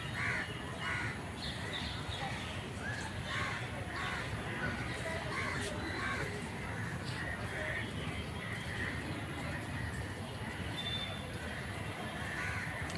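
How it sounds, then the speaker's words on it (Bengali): Crows caw repeatedly among other birds in Ramna park in the afternoon, scattered calls over a dense, steady outdoor murmur of walking crowds. "পাখির ডাক শুনতে পাবেন"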